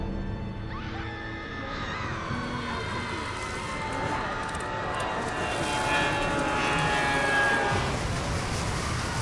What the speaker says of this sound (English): it sounds like the plane that guy is in is going out of control